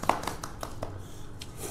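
Hands clap in a quick run of about five or six sharp, evenly spaced claps, fairly close, over faint background noise.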